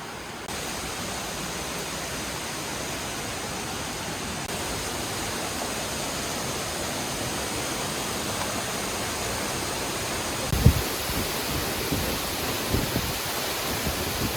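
Steady broadband rushing of a waterfall on Kauai, Hawaii, constant and full, with a couple of faint thumps near the end.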